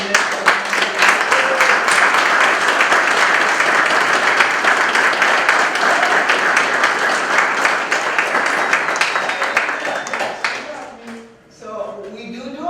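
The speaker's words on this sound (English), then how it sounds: "Let us give a round of applause to all of our mentors." A crowd at a men's health summit in a Boston community health center applauds its mentors with long, loud, sustained clapping that fades near the end as voices break in.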